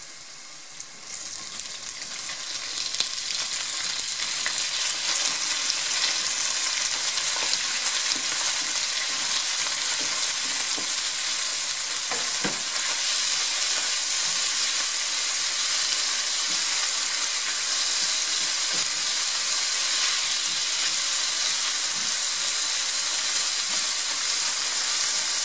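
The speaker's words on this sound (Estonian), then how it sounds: "Ja siis aurustub üleliitne niiskus siit seente seest." Mushrooms fry in a hot pan for a Estonian barley, minced meat and mushroom skillet dish, giving off a steady, dense hiss and sizzle as their moisture steams away. An occasional faint crackle or stir breaks through the sizzle.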